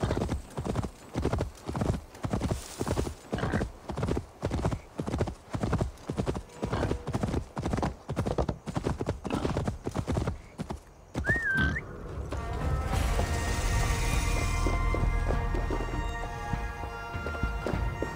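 Clip-clop hoofbeats of a new mount galloping in Assassin's Creed Valhalla, a steady rapid rhythm close and loud for about eleven seconds, followed by a whinny and a louder rushing, rumbling stretch.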